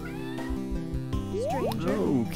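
A cartoonish cat meows several times in the video game Dead Estate, its rising, sliding cries loud and close over a steady game music bed.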